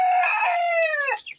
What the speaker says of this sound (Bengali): মোরগের ডাক শুরু করলে আর থামে না ওটা।